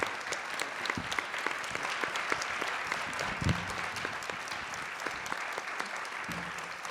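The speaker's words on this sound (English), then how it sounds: "can we give a big applause to our panelists, please?" Continuous audience applause for a discussion panel at a live event, a dense even wash of many hands with occasional louder individual claps, sustained at a steady level throughout.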